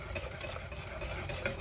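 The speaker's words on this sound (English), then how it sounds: "so you have to constantly whisk it" Steady whisking of a creamy béchamel sauce for mac and cheese in a pot, a continuous close scraping and stirring texture with faint sizzle underneath, no voices.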